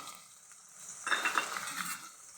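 Garlic paste begins to sauté in a pan with fennel seeds, giving a soft sizzle with light stirring scrapes. It swells suddenly partway through and stays fairly quiet, with no voice over it.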